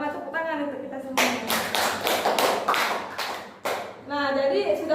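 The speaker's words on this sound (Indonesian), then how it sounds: "kalau sama tepuk tangan untuk kita semua" Fifth-grade pupils clap together in an Indonesian classroom lesson: a burst of loud, quick rhythmic group claps lasting a few seconds, with a teacher's and children's voices just before and after.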